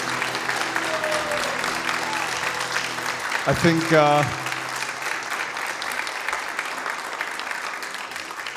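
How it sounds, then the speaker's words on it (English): Applause at a Bhaktivedanta Manor Lila Katha gathering for a speaker, steady sustained clapping across the room with a brief tonal sound and a short voice in the middle. "let's have a massive round of applause for Sri Radha Raman Dasa"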